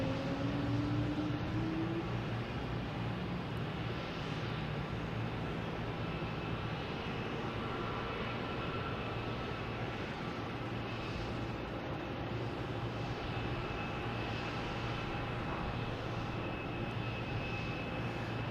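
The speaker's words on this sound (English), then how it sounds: "We have a JetBlue coming in from Cleveland." JetBlue jet airliner landing at Boston Logan, arriving from Cleveland: a steady, fairly loud engine roar with a faint whine that stays constant throughout, with no voices.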